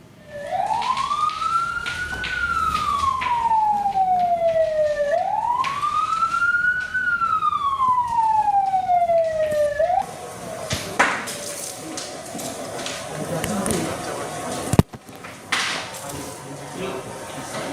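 Loud wailing fire engine sirens rise and fall in long sweeps, close by, at a building fire in Bintaro, then cut off and give way to clattering, bangs and busy street noise.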